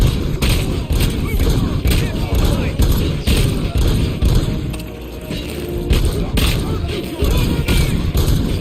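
Heavy video game shootout with continuous booming gunfire and crashing environmental destruction, loud and dense throughout, with a brief lull in the middle before the barrage resumes.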